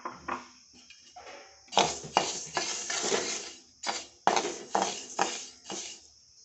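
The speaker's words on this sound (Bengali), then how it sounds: "প্রথমে মুগ ডালটাকে ভেজে নেব।" Moong dal dry-roasting in a hot, oil-free kadai, with repeated scraping and stirring strokes against the metal and dry grains rattling in irregular bursts, close and fairly loud.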